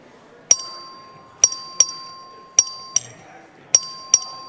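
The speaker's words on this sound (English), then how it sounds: "The clerk will ring the bell." Bell rung by the clerk for a record vote in the Texas House chamber, seven sharp metallic dings in an irregular rhythm, each with a quick ringing decay over low room murmur.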